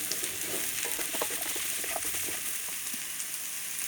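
Ridge gourd pieces sautéing with a pinch of salt in a pan, a steady close sizzle with scattered small pops and occasional stirring, no voices.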